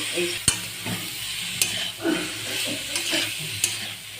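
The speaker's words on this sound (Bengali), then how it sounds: "বেগুনটা ভাজা হয়ে গেছে, এর মধ্যে আমি এবার শাকটা দিয়ে দেবো" Eggplant and mustard greens stir-fry in a pan, a steady close sizzle with scraping strokes and a few sharp spatula taps against the metal.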